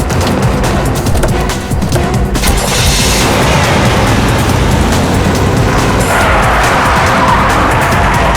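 A car races off at speed in a TV crime drama, its engine roaring loud and continuous with tire noise and skidding, after puncturing another vehicle's tire; no talk.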